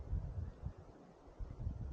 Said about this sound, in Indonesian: Di sini anginnya agak kerasa mulai kencang ya